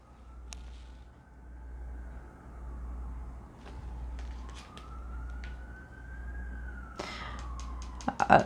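A distant siren wails with slowly rising and falling pitch over a low steady rumble, with a few faint clicks and knocks nearby.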